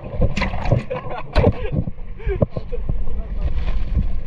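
A jet ski rides on the sea in Greece, with the engine and splashing water buried under heavy, gusting wind buffeting the microphone at close range.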